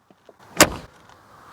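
A 1978 Porsche 928, backdated with a single mirror, has its door swung shut in one solid, close, resonant thud, preceded by a couple of faint clicks and followed by a short fading ring.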